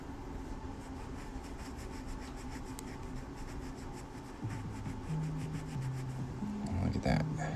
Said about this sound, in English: I'm just rubbing this outside layer of these cowboy hats to get them nice and shiny